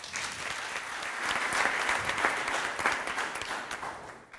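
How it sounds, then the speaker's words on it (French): A crowd applauds at a televised youth debate contest, sustained dense clapping from many hands that builds, holds for several seconds, then tapers off. "Applaudissements."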